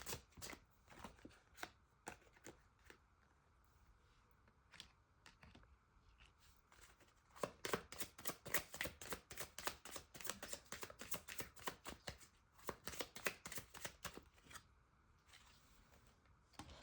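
Tarot cards are laid down and handled on a table in a series of quick, crisp taps and slaps, scattered at first, then a dense rapid run, close and fairly quiet, with no talking.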